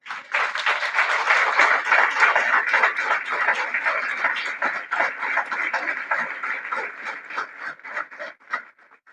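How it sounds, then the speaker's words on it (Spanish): Church congregation applauding after a pastor's call, steady dense clapping that swells then slowly thins toward the end, loud and close with no talk over it. "¿Cuánto le dan un aplauso al Señor?"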